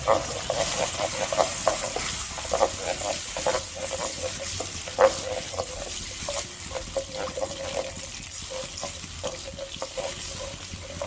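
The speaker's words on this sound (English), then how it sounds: "And I will stir it for another 1 minute." Kebab karahi with yogurt is stirred in a pan, a spoon scraping and clicking in uneven strokes over a steady close sizzle.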